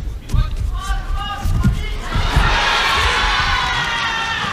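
A Tokyo Grand Slam judo crowd roars for the Korean judoka Lee in the 81 kg final, with early shouts and thuds swelling into loud, sustained cheering.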